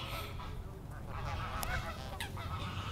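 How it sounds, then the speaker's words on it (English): Geese or ducks honking in an agitated, aggressive outburst outdoors, with several bright calls standing out over steady background noise and rumble, moderately close. "These geese or ducks are acting really aggressive,"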